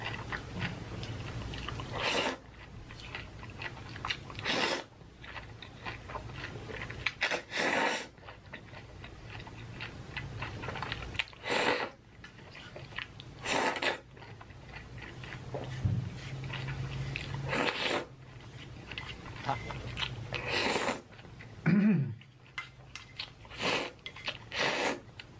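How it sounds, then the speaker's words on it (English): Someone chews and slurps noodles close up, with wet crunching bites and smacking in a steady rhythm, broken by several sharp clicks, lasting throughout. "Look at bro slurp."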